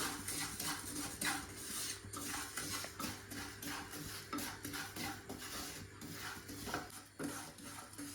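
Vermicelli roasts in ghee in a pan for mango semiya payasam, with repeated scraping and stirring of a spoon against metal and a faint sizzle underneath, fairly quiet and close.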